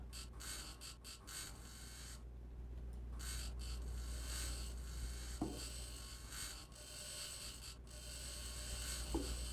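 Scavenging grinder machine in the video game Occupy Mars, a continuous mechanical grinding and rasping hum with low rumble, briefly dropping out then resuming, with a few sharp clicks.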